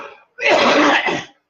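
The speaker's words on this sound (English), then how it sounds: "that was what they call a productive cough" A single productive, wet-sounding cough from a chest cold, a harsh, loud burst lasting about a second, preceded by a brief breathy catch.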